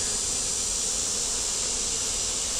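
Steady dense buzzing of many honeybees at an opened double-deep hive on a partly cloudy day, a continuous close-up drone with no voices.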